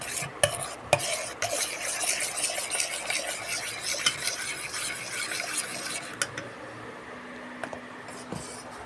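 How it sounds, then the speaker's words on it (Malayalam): A homemade orange soap mixture with added vitamin E is stirred in a container, giving a steady scraping, swishing rattle close by with a few sharper clinks, fading to quieter stirring toward the end; no talking. "ഇത് നന്നായിട്ടൊന്ന് ഇളക്കി കൊടുക്കണം"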